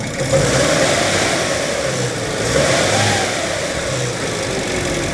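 The engine of a 1975 MG Midget with a coolant leak at the temperature probe revs loudly and close by, rising and falling twice in smooth sweeps over a steady idle.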